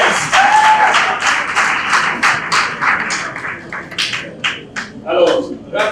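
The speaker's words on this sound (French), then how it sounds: "On applaudit très fort pour Chélie." Applause from a school audience of students during a public broadcast, sustained clapping with a tapping texture for about five seconds while a voice speaks over it.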